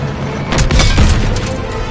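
An enemy tank is hit and explodes in the Call of Duty video game, a single loud, close booming blast with a rumbling low-end swell that sustains through the whole moment, with no talking over it.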